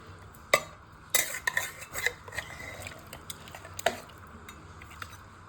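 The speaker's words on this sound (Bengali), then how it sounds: "ভালো করে নেড়ে দেবো।" A spoon scrapes and clinks against a pot while stirring meat curry with potatoes and papaya, irregular close metallic knocks over a faint simmer, no talking.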